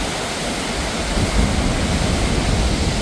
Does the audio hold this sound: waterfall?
yes